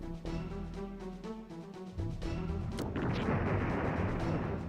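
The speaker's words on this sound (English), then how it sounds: "It's so good how it just starts with an explosion." An explosion in the video game Overblood 2, with a low musical drone giving way to a sharp crash and then a loud, sustained roaring rumble that fills the rest of the moment.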